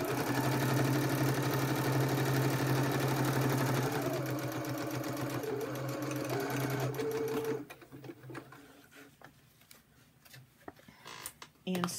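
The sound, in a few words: sewing machine stitching a folio pocket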